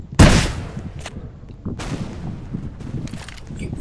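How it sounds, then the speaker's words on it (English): A rocket launcher fires in Untitled Tripod Game with a sharp, loud blast that decays into rumble. A second, softer boom follows about a second and a half later, with scattered clatter after it. "I use my rocket launcher."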